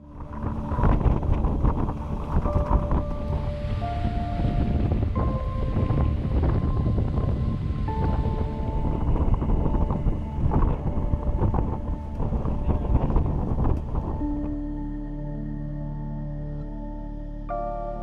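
A boat sits on shallow water in wind, with continuous buffeting wind noise and engine or hull rumble that eases near the end, leaving a low steady hum. No one speaks.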